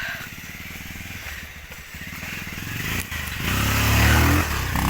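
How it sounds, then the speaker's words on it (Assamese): A motorbike engine rumbles and grows louder as it passes nearby, with steady road noise and a rising throaty drone toward the end. "এই বনোৱাটো একদম ধুম ধুমকৈ বাইক চলাইছে।"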